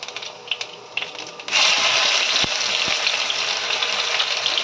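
Cumin seeds and dried red chillies sizzle in hot oil in a heated kadhai, first with crackly pops, then a loud, steady frying hiss, with a couple of soft knocks from stirring.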